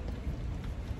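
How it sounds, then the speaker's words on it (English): Heavy rain pours down outdoors in a brief, dense, steady hiss of falling water with a low rumbling undertone and no voices. "it's still raining hard."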